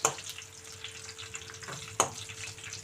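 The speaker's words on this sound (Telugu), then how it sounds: "కొంచెం వేయించుకుందామండి ఉల్లిపాయలు" Onions fry in a pan with a steady, soft crackling sizzle, broken by a few stirring scrapes and one sharper clatter near the end.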